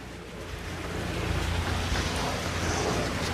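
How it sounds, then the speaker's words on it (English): Backyard pool fountains run water through several sections at a home in Courtney Grove, Silverleaf, St Johns, giving a steady splashing wash of water that swells slightly, fairly near and without voices. "Some fountains, and the water is running all through these sections as well."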